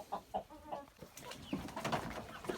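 Soft clucking from moulting hens nearby after rain, a few short calls with some rustling in between.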